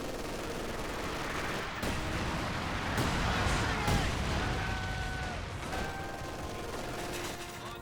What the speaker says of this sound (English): Incendiary mortar barrage.